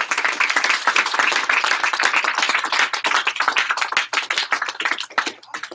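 A room full of people claps for a staff member at a sales meeting, sustained and energetic, dense hand-clapping that thins slightly and grows choppier toward the end, close and loud with no voices over it.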